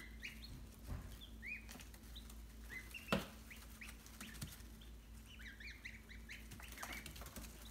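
Geese and small goslings in a pen make faint scattered peeps and soft honks, with wing flaps and light rustling over a low steady background hum.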